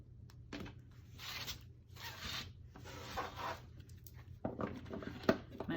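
Tarot cards being cut and shuffled by hand: a series of soft papery rustling swipes, several bursts in steady rhythm, close and quiet, ending with a sharper card snap.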